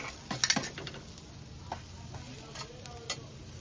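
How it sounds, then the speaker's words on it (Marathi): Green chillies are lightly sautéed in a pan for a spicy crab curry, producing a soft, low sizzle with scattered faint ticks and spoon taps, quiet and close. "आणि दोन मिरची हे त्याच्यात फक्त जरा हलके परतून घेऊया"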